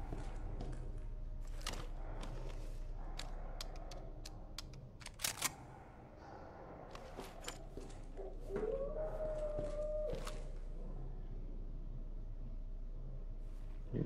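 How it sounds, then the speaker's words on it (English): Dogs howl from behind a door in the Resident Evil 2 video game, a drawn-out wavering howl rising midway over a low steady hum, with sharp thuds and knocks scattered throughout. "Dogs shouldn't be able to actually bust out through doors, no matter how hard they punch at it."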